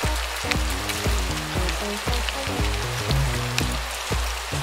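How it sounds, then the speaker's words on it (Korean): Rain pours steadily on the island in the Roblox game Adopt Me, a continuous hiss of drops over a soft synth melody that repeats in regular bars underneath. "지금 입양섬에 비가 내리고 있습니다."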